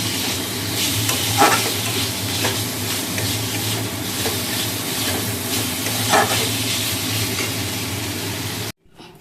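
Potatoes frying and being stirred in a pan with cumin, ginger paste and tomato paste, a steady close sizzle with scraping stir strokes throughout, no talk, ending abruptly in silence.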